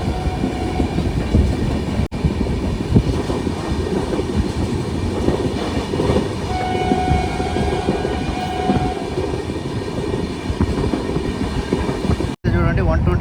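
A passenger train on the Tirupati to Vijayawada route runs at about 128 km/h, heard from inside as a loud, steady rumble with rhythmic wheel clatter and faint squeals throughout.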